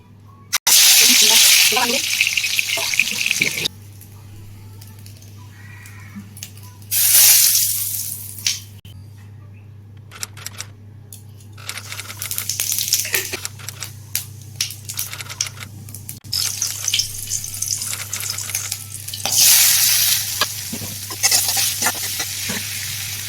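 A peeled boiled egg, rubbed with turmeric and salt and slit down the middle, fries in hot oil with loud crackling sizzles that flare up at intervals over a steady low hum.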